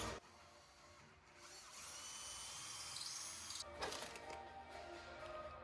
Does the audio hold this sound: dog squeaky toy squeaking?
no